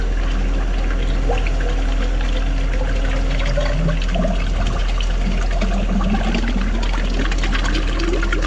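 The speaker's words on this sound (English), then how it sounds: "I'm going to throw some water in the end of the hose before it connects to the rest of the line" Water pours steadily into the open end of a hose during a concrete pumping job for architectural stairs, a continuous gurgling trickle over a low mechanical hum.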